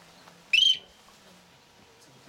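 A bird-luring whistle played by a craftsman at the Chongming Dongtan bird reserve in Shanghai: one short, piercing, birdlike chirping whistle bursts out loudly, then quiet room tone follows.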